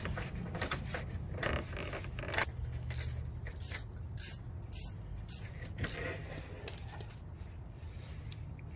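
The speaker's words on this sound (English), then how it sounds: "So I got the wrench in here for the 3rd" A ratchet wrench clicks in quick uneven runs while loosening a headlight lens housing screw on a Toyota MR2 Spyder, close and fairly soft, with a few louder clicks.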